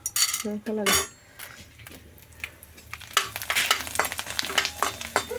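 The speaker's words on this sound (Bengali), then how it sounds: "এই যে একটু ভাজবো" Snacks fry in a pan, with a few sharp clinks of a utensil at first, then a quieter stretch, then a busy crackle and sizzle and repeated scraping stirs close by, without talk.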